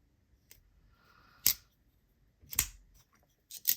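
Small Demko AD20.5 folding knife flicked open and shut with the thumb, giving a few sharp, close mechanical clicks and snaps spaced about a second apart, with quiet pauses between.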